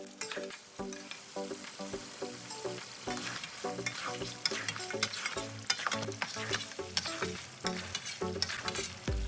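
Mutton karahi stir-fries over high heat in a wok-style karahi, a continuous sizzle broken by rhythmic scraping and clanking stirs, close and loud with no talking.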